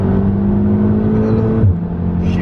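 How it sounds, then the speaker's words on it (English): A Volkswagen Golf R engine drones loud and steady from inside the car as the throttle is feathered at low revs. Its pitch holds and then drops sharply near the end, suggesting a downshift, with no talk over it. "if I'm like low down, just like feathering the throttle a bit, you can hear a lot of turbo fly"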